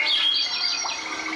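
Birds chirp in quick high tweets and short warbling calls, bright and fairly close, with no other sounds over a brief stretch.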